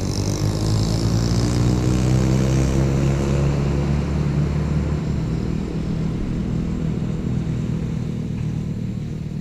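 An MJX Bugs 3 FPV quadcopter drone flies outdoors over an open field, its motors and propellers producing a steady, loud buzzing drone that holds fairly constant throughout.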